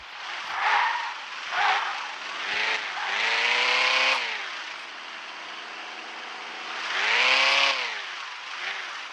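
Car braking with tire squeal on a road, with several short squeals and engine surges passing at moderate distance, and two longer whining bursts rising and fading.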